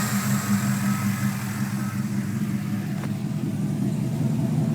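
A Chevrolet Colorado with a V8 swap and T56 transmission, running with Flowmaster Delta 40 exhaust, settles into a steady, loud, low idle rumble heard close up with no talking.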